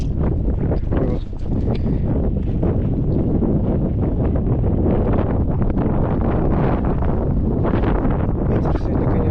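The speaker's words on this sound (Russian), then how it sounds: "Ветер сегодня хороший." Strong September wind on a lakeside fishing outing roars steadily into the microphone, a dense continuous rumble with gusty swells throughout, and voices talk faintly beneath it.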